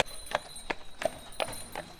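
A placid, gentle horse steps along during a Christmas tree collection in Saint-Prix, its hooves giving five evenly spaced clip-clops over steady outdoor background noise.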